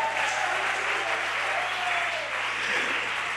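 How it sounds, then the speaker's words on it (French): Church congregation applauding during a French-language service, a steady wash of clapping from many hands, loud and continuous, with a voice faintly audible underneath. "Applaudissez très très fort."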